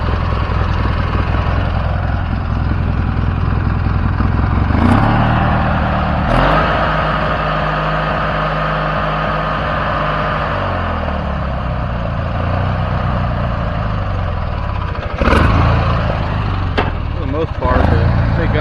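A Craftsman LT1000 lawn tractor engine runs steadily nearby with a constant mechanical drone, broken by a few sharp clunks and knocks, and voices can be heard at times over it.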